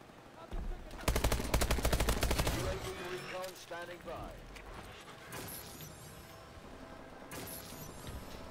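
IMR rifle fire in the game Call of Duty: Advanced Warfare, a loud rapid burst of automatic shots lasting about two seconds, followed by quieter in-game effects and scattered clatter.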